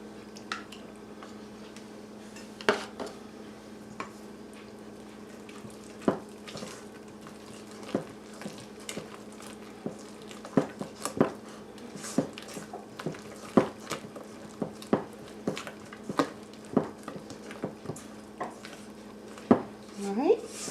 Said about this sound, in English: we just want to get this mixed, or moistened